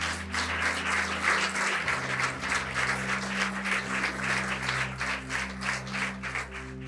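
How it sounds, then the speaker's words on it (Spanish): A church congregation applauds during a Spanish-language sermon, a steady wash of many hands clapping that lasts several seconds over a low sustained organ-like tone. "denle un aplauso al Señor"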